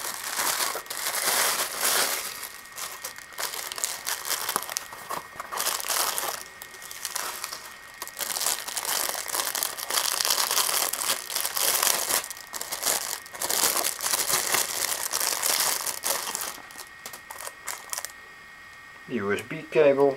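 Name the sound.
crinkling packaging while unpacking a hard disk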